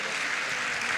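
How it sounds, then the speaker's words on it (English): Audience at a women's business conference applauding, a steady, dense wash of clapping from many hands in a large hall with no pauses. "I want you to give yourselves a round of applause"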